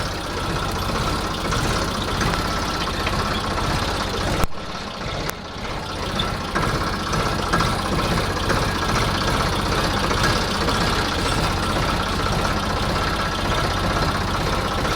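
A tractor engine runs steadily close by, a continuous low rumble with a brief dip partway through, then carrying on unchanged.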